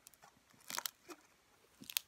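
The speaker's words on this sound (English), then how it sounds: "And this is crunchy slime, but it's not really that crunchy." Crunchy slime packed with confetti being squished and played with, giving a few quiet, scattered crunching and crackling bursts with soft pauses between them, close up and alone.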